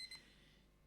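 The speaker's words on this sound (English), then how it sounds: "So that's the buzzer." Two quick high electronic beeps from a timer buzzer marking the end of a talk at a conference, faint and brief over a quiet room.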